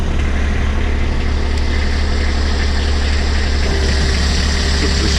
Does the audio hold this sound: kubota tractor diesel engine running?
yes